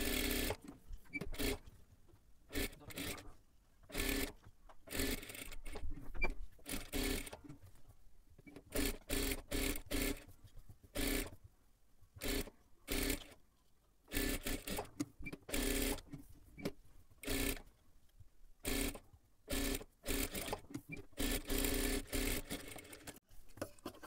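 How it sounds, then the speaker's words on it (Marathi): A sewing machine stitches blouse lining for a tucked blouse in bursts of rapid, rattling needle strokes, starting and stopping repeatedly with short quiet gaps between runs, close and clear. "अशा पद्धतीने पूर्ण शिलाई करून घ्यायचा आहे"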